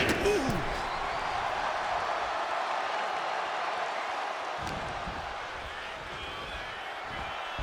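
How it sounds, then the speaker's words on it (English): A wrestler is tossed into the ring in the WWE 2K25 video game, a dull slam landing amid a steady, loud arena crowd roar while a commentator talks throughout. "And now gets tossed into the ring."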